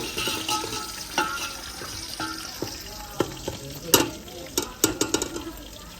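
Onions brown in a pan for chicken karahi with a soft, continuous sizzle, broken by scattered clinks and scraping stirs that grow more frequent toward the end.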